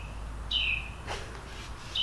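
Outdoors near an old truck, a bird gives two short, high chirps about a second and a half apart, heard alone over a steady low rumble.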